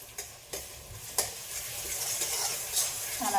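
Sabudana khichdi with potatoes and green chilli being stirred and sautéed in a pan: a steady sizzle under repeated scraping spoon strokes, several sharper scrapes standing out, no talking.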